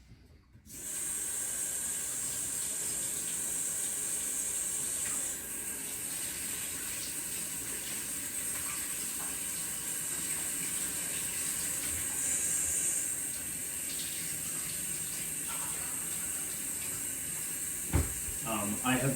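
Water runs steadily from a tap for a long stretch, a constant hiss with a brief clunk near the end, while mixing sourdough.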